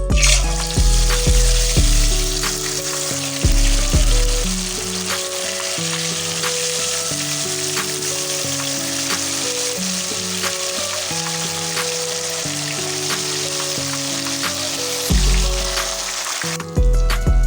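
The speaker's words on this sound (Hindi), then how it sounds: "फिश हमारी फ्राई हो रही है।" Masala fish fry cooking in hot oil, a loud, steady sizzle with bright crackling, overlaid by a rhythmic, tonal background sound that changes pitch throughout and briefly swells near the start and end.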